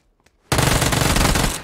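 A sustained burst of rapid automatic gunfire in a video game breaks out sharply after a brief quiet moment and rattles on loudly and densely for about a second until the clip ends.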